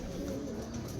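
Racing pigeons coo softly in a loft, a low murmuring burble that fills a brief moment with a steady, close, throaty hum.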